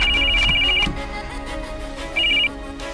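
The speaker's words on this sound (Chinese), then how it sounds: "阿强只能打电话给阿伟帮忙。" A telephone rings with a bright, repeating electronic trill in two bursts separated by a pause, heard fairly close over a quiet background hum with no talking.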